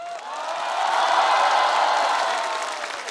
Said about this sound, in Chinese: 我们再给他一轮掌声